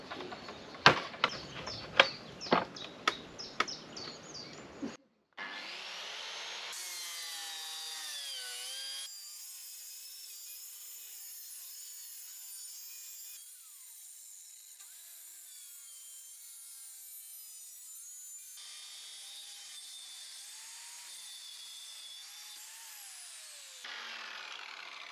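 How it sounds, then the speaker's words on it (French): A circular saw whines steadily through wood for several seconds after a burst of sharp knocks, its pitch shifting as the blade bites, then winds down. "Petit coup de scie circulaire."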